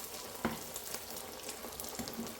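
Kachori frying in hot oil over a low flame, a soft, continuous sizzle and crackle with a few sharper pops, quiet and close, with no talking.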